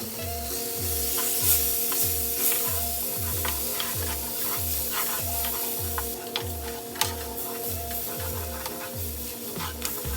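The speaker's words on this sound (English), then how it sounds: "So moving in with my minced garlic, just going to cook those really fast before I add my shrimp." Minced garlic sizzles in a hot pan, a steady crackling fry overlaid with rhythmic scraping or tapping as it is stirred, continuous and close with no talking.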